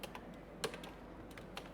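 Quiet clicking of a computer keyboard as a company name is typed into a business card design in Adobe Illustrator, with a few sparse, uneven keystrokes and one sharper press.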